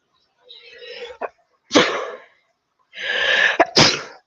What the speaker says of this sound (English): I wasn't able to mute before I sneezed.